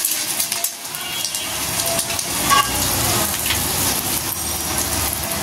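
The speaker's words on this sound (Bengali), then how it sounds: "একে একে আমি সবগুলি রোল ভেজে নিব।" Rolls frying one after another in a hot pan, a steady dense sizzle with faint stirring clatter, continuous and close throughout.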